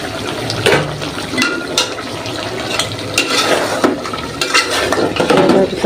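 Chicken meat being stirred and fried in a pan, with irregular scraping and clinking of a utensil against the pan over a soft sizzle, close and fairly loud.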